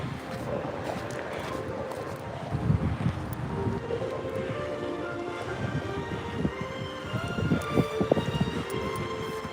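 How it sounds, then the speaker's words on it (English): Wind buffets a microphone at a waterfront with a steady low rumble and gusty swells, continuous and fairly loud, with no talking. "I didn't realize how windy it was down here"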